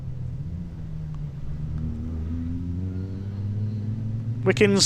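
Rallycross cars at a BTRDA Rallycross Championship round rumble steadily with engine drone rising and falling as they brake and accelerate toward the hairpin, heard from a distance under a commentator's voice.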